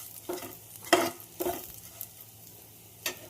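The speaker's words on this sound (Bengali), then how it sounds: "মশলাটা যখন ভাজা হয়ে গেল" Garlic, turmeric, salt and spices fry in a pan with a low steady sizzle, broken by four or five sharp scraping stirs of a spatula, close and without any voices.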